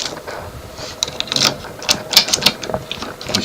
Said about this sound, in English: See the steering lock move.